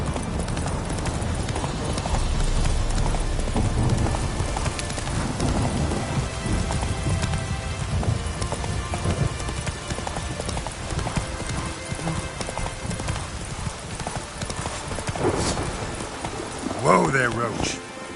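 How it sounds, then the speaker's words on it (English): Horse hooves clip-clop steadily on wet ground through rain in The Witcher 3 video game, a continuous rhythmic trot with a brief whinny-like rise near the end, with game music layered in and a voice speaking briefly. "Whoa there, Roach."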